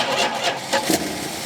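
A 1971 Plymouth Roadrunner engine left sitting for 35 years cranks and fires, giving a few uneven bursts of starter and engine noise close by with no talking.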